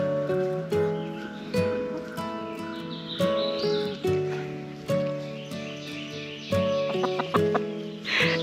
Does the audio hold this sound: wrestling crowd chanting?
no